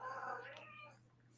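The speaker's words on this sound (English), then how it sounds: "I don't know if you can hear my cat, but she's mad. She wants more food." A hungry house cat gives one drawn-out, complaining meow that is quiet and close by. It rises and then fades over about a second in an otherwise calm indoor space.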